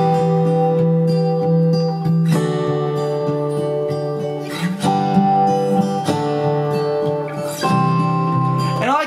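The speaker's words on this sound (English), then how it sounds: "all I'm doing is just chord voicings on the electric guitar" Electric guitar chord voicings ring out one after another with EQ and compression, each strum sustaining into a washy reverb tail, played alone at a relaxed pace.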